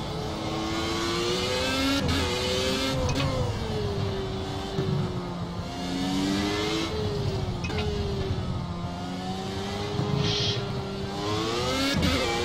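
A Formula 1 car in a racing video game accelerates with DRS, its engine revving high through rising pitch sweeps with brief drops at gear changes, loud and continuous with no talk.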